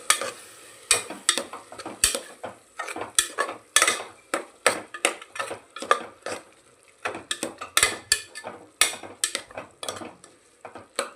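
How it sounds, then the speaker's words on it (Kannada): Vegetables for a vegetable pulao being fried and stirred in hot oil in a pot, with a steady run of sharp spoon scrapes and clinks against the metal over a soft sizzle, close and fairly even in rhythm, with no talking. "ಈಗ ಇದನ್ನು ಚೆನ್ನಾಗಿ ಎಣ್ಣೆ ಒಳಗೆ ಫ್ರೈ ಮಾಡ್ಕೋಬೇಕು ರೀ."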